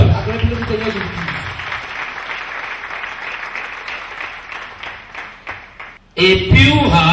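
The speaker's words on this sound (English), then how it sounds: "Clap for Lord Jesus Christ." A church congregation claps during a sermon, a dense run of applause that fades out, leaving a brief gap before a preacher's voice returns loudly.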